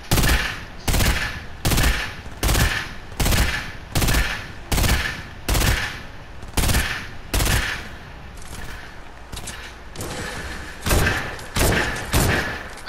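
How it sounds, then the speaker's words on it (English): Gunfire rings out in a video game, a loud, evenly spaced string of heavy shots, about a dozen booms fired roughly once a second, then a short lull before more. "Shoot Aiden, shoot it with me, shoot right here."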